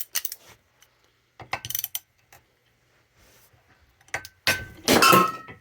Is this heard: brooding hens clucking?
no